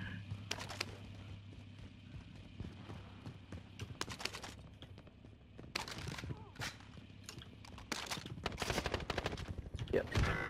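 Gunfire in the video game Call of Duty Warzone, bursts of rapid shots in clusters, some sharp and close, others more distant, with players talking over the action.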